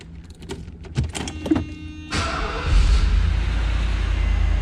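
A 1985 Mercedes 380SL with a freshly replaced double timing chain and tensioners cranks with a few clicks and thunks, then catches at about two seconds and settles into a steady, smooth, low idle close by.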